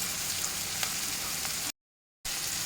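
Chopped onion, curry leaves, salt and turmeric sauté in a pan with a steady, close sizzle and faint stirring scrapes, broken by a brief cut to silence before the frying resumes.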